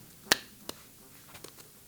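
Children clapping twice, two sharp separate claps close together near the start, followed by faint softer taps in a quiet room.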